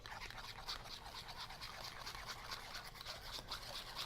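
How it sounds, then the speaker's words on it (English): Hair lightener whisked briskly in a bowl for bold, chunky highlights, a steady, fast scratchy swishing with rapid rhythmic strokes that continues without pause, close and moderately quiet. "making sure that we're whisking our enlightener"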